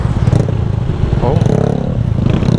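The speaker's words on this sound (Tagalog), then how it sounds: "Wala silencer oh. Maingay ito." Motorcycle engine running without a silencer, a loud, rough, close rumble that holds steady throughout, with someone talking over it.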